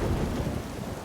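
Heavy rain pours down in a steady, dense deluge with low thunder rumbling underneath, loud and continuous throughout with no voices.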